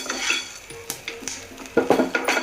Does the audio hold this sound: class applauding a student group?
no